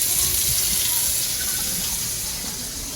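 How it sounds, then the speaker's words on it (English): Water runs steadily from a tap into a sink whose drain has just been fitted with a new copper waste arm in a 1962 house, a close, continuous gushing wash. "All right, the water is running."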